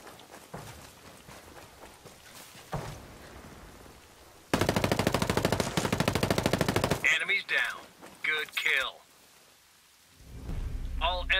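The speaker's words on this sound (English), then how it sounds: "I hear unsuppressed enemy fire" Unsuppressed enemy gunfire in Tom Clancy's Breakpoint: a loud sustained burst of rapid automatic shots lasting a few seconds, followed by scattered sharper reports, amid quieter game sounds before and after.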